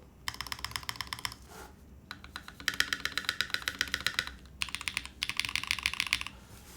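Typing on an Evolv mechanical keyboard with Zaku switches, carbon fiber plate, polycarbonate top and stainless steel bottom: bursts of rapid, crisp keystrokes close up, separated by short pauses, no talking.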